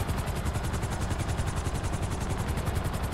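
Merryweather attack helicopters in GTA 5 close in, a continuous loud rotor thump and rhythmic chop with a whining high turbine layer, steady and near throughout with no voices.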